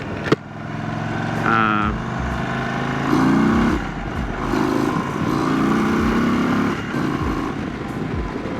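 An Indian Sport Chief motorcycle rides along, its engine rising and falling through several accelerations and gear shifts, steady and close, with wind noise throughout.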